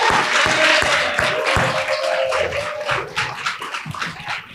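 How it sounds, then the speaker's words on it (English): An audience at the Poetry Out Loud 2025 event applauds its Contra Costa County finalists, steady, full clapping close by that thins slightly toward the end. "Please give them a round of applause."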